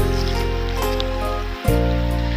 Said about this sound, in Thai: เขาย่างมามองเขาก็จะได้ยินเสียงน้ำตกเนาะ